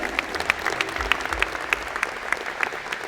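Applause at a college engineering and computer science convocation honoring faculty and staff, a steady crowd of clapping with sharp individual claps standing out, fairly close and filling the whole moment.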